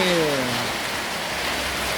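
Steady broadband rain hiss fills the scene, with a brief voice-like tone fading at the start; continuous and fairly loud throughout.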